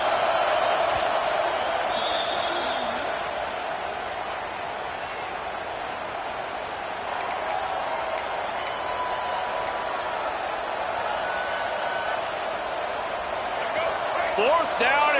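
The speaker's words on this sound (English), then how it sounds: "This crowd trying to do its part to get inside the kicker's head." American football stadium crowd roaring steadily to rattle the opposing kicker, a dense sustained wall of noise with faint whistles and shouts rising near the end.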